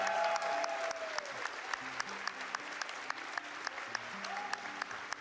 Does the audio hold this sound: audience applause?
yes